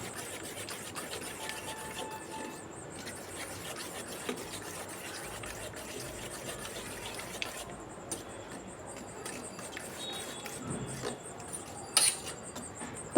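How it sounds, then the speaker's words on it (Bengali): A spoon beats an egg into a flour mixture in a bowl, making a continuous scraping, rubbing rattle with occasional sharper clinks against the bowl, quiet and close. "আবারও আমি ডিমটা আর এই মিশ্রণের সঙ্গে খুব ভালো করে আমি চামচ দিয়ে ফেটিয়ে নেব"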